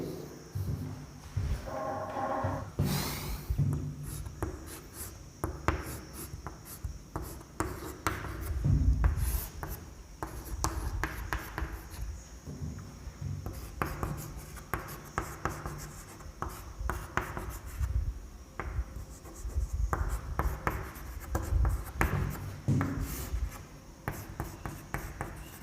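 Chemical reactions are written on a board, giving bursts of scratchy strokes and taps in irregular rhythm, close and moderately loud, with short gaps between the lines of writing.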